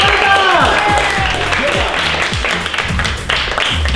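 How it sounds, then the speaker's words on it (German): A studio audience at a German reality show applauds loudly and continuously, with whoops and music-like tones mixed into the clapping throughout. "Riesiger Applaus!"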